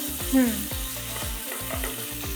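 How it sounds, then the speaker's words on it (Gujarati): Ginger, green chili and garlic paste sizzles in hot oil in a pan, a steady close frying hiss with small stirring clicks and no talk. "હવે આપણે આમાં આપણી આદુ મરચાંની પેસ્ટ એક ચમચી આદુ મરચાંની પેસ્ટ નાખી દઈશું"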